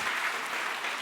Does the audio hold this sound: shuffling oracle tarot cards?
no